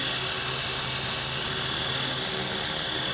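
A steady, high-pitched whine of a small RC helicopter hovering nearby, nose to the left at a 90-degree angle, its motor and rotor holding a constant drone throughout.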